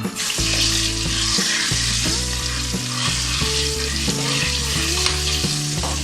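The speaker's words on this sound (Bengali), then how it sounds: "ফোড়ন ভাজা হয়ে গেছে" Whole garam masala (cardamom, cloves, cinnamon and bay leaf) with a pinch of sugar frying in refined oil, giving a loud, steady sizzle that lasts throughout, with occasional stirring scrapes.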